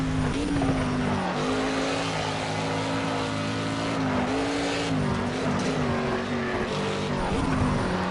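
A Ford Mustang in the Project Cars racing game drones steadily with a loud, continuous engine note whose pitch rises and dips with throttle changes, with faint tyre noise mixed in.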